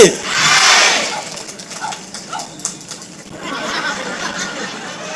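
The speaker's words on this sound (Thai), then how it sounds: "มีกองเชียร์" A crowd of supporters cheers at a Thai political rally. A loud burst of shouting and cheering opens, then settles into a scattered murmur of voices and calls before swelling slightly again.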